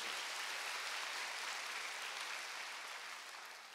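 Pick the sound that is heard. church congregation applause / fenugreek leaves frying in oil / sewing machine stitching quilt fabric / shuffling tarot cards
church congregation applause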